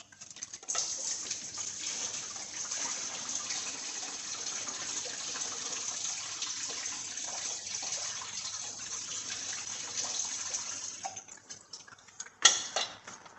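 Coolant gushing steadily from a loosened water pump hose on a 2006 Ford Mustang 4.0 under repair, a continuous splashing pour at close range that tapers off near the end, followed by a brief clunk.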